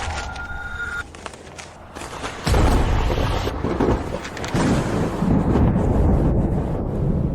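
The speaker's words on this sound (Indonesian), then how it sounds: "Di tengah badai salju ini kenapa ada guntur dan kilat?" Deep thunder rumbling through a snowstorm, a loud sustained roar that swells partway through and keeps going under broad wind-like noise, with no voices.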